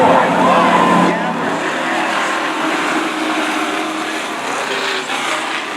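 Race cars roaring around Stafford Speedway during a kids-night event as the leader spins off turn four, a dense, loud engine drone with a rising whine early on and an announcer talking throughout.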